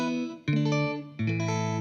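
Electric guitar with compression and no EQ, playing funk exercise chords as two or three sustained strummed chords with sharp attacks, full and bright, close and alone.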